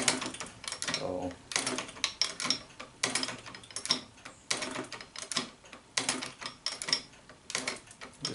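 Shop-built hand-cranked shaper taking small cuts in half-inch-thick aluminum bar, a rhythmic series of clacking mechanical strokes and ratcheting clicks repeating about once a second, close but fairly quiet.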